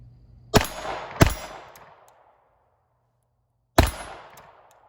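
Three suppressed shots from a Beretta 80X pistol converted to .32 ACP, each a sharp close crack with a metallic clang and a short echoing tail, two in quick succession then a pause before the third.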